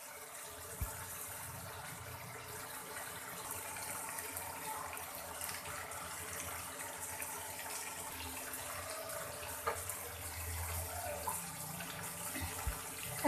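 Water poured into a pan of fried cauliflower and potato curry with lentil dumplings, a soft, steady, faint splashing flow that continues evenly without talk.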